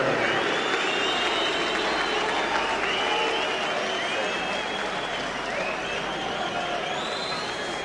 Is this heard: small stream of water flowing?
no